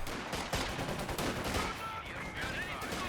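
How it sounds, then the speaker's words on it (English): Rifle grenade launcher blasts and sustained gunfire in the Company of Heroes 2 battle game, a dense, continuous barrage of overlapping shots and explosions at steady loudness throughout. "There's the rifle grenade launcher."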